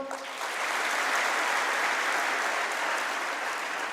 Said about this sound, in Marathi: जोरदार टाळ्यावर एकदा डबल